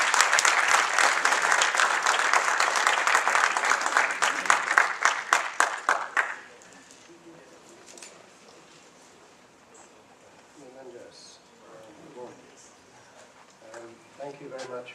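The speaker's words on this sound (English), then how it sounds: "Please welcome him with an applause." A conference audience on the Chameria issue gives a loud burst of clapping for an arriving speaker; it lasts about six seconds, then cuts to a quiet room where faint speech follows.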